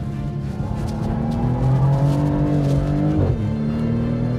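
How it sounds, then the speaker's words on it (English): A 2024 Maserati GranTurismo in Corsa mode rounds a turn, engine droning loudly and close with rising revs, then a sharp drop in pitch as it shifts or lifts near the end. "you put it into Corsa mode and you take a turn like that"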